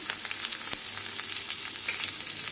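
Onions fry in a pan with potato and carrot, making a loud, steady, close sizzle with a brief sharp tap partway through, and no talking.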